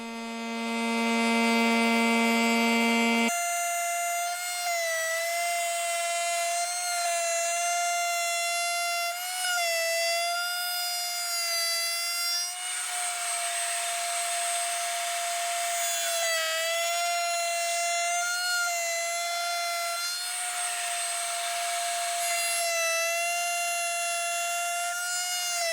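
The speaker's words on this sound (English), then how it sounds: "use a pattern bit to cut the final shape at the router table" A router table with a pattern bit whines at a steady high pitch while cutting, its tone wavering slightly as wood is fed through, loud and continuous.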